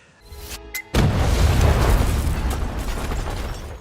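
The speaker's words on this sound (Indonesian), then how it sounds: "Ledakan terjadi tepat saat mereka kabur" A sudden loud explosion in a stadium bursts in after a brief lead-in, followed by a long, dense rumble of debris and roar that slowly fades.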